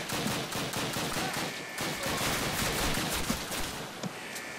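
Sustained enemy gunfire in a video game, with dense, continuous volleys of shots and bursts at steady loudness throughout and no talking.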